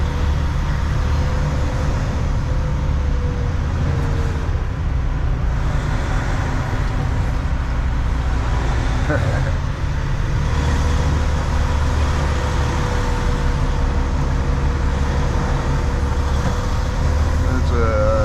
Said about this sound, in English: It's a 80s model Kenworth.